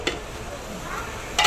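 Onions frying in oil with mutton lungs are stirred in a pan, giving a soft steady sizzle with scraping strokes at the start and end.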